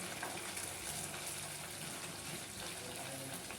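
Steamed fish meat, already peeled from the bone, frying in a home kitchen, a faint steady sizzle and crackle with a watery hiss that carries on evenly throughout.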